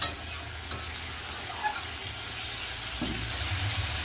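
Fish curry gravy for a Bengali oily spicy fish dish bubbling in a pan, a soft steady simmer with a louder burst of sizzle near the end and a thump at the start.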